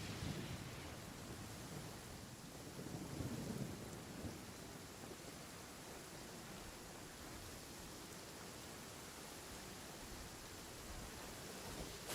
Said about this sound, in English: I can't remember last time I seen rain in this game.